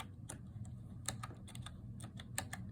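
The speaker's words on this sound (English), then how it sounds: "I'm just going to type in date anyway." Fingers pressing buttons on a small door access control keypad (model AL5HDTU1) while entering a date, a quick uneven series of sharp, close button clicks over a low steady room hum.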